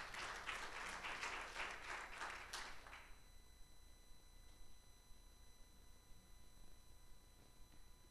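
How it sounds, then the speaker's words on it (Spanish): A church congregation applauds faintly during a sermon, with quiet, dense clapping for about three seconds that cuts off into near-silent room tone. "Démosle un aplauso al Señor a eso"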